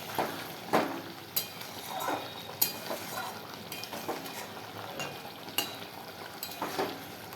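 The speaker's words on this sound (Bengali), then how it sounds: "এই দেখো টবড়াপ টবড়াপ টবড়াপ করে ফুটে যাচ্ছে" Curry bubbling and simmering in a pan for a Sunday meal, giving a soft, steady sizzle broken by occasional spoon scrapes and light clinks against the pan, close and moderately quiet with no talking.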